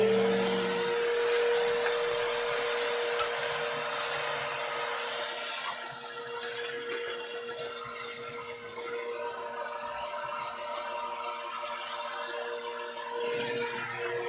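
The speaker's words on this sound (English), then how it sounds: "let me vacuum this right quick" A vacuum cleaner runs close by while cleaning up around a diamond painting pen workspace, a steady loud whirring hum with a sustained tonal whine, easing slightly in pitch partway through, with no talk.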